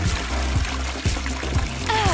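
Water is poured into a tabletop fish tank set up with underwater plants, a close, steady trickling stream with light splashing that runs throughout, while background music plays along.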